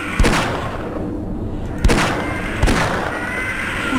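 Gunfire in the video game Half-Life: three separate sharp, booming shots spaced unevenly over a few seconds, each fading quickly.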